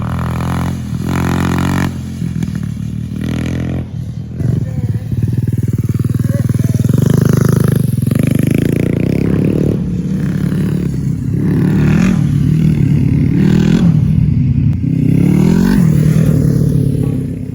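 A 90cc pit bike revs and rides on a dirt track, loud and close, its engine rising and falling through throttle blips with some rattle, and a voice speaking briefly over it.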